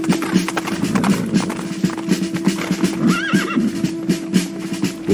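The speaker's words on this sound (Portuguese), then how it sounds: "veja alguns homens chegando a cavalo" Horses ridden by approaching men whinny over a steady clip-clop of hooves, with a distinct neigh partway through and a continuous low rhythmic thudding of galloping behind it.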